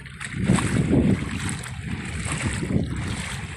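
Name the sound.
floodwater sloshing in flooded Bang Kho community, Rama 3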